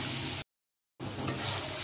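Spices for a fish curry sizzle in hot oil in a pan, a steady hissing crackle that cuts out briefly and then resumes.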